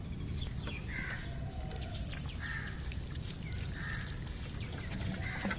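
Water is poured onto the soil of potted plumeria cuttings, giving a faint, steady soft splashing hiss that runs throughout, with birds calling now and then in the background.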